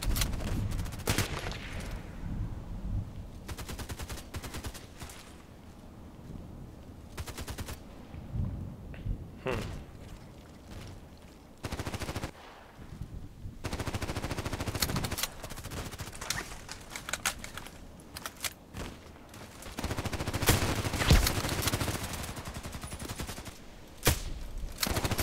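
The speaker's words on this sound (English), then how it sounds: "I'm shooting the shotgun all the time" Shotgun blasts in a shooting video game, repeated bursts of gunfire in irregular clusters, loud at times and separated by quieter gaps, with a voice talking in places.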